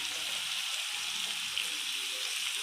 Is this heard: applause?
no